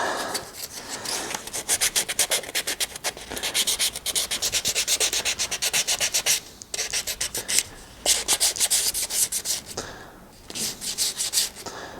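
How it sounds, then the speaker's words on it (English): Hand sanding a Free Form Air terrain piece with sandpaper: rapid rhythmic back-and-forth scratchy strokes, close and fairly loud, with a few brief pauses and no talking. "I think maybe I should have a slightly higher grit, that might be easier, but that is smoothed off and it is absolutely paper smooth now."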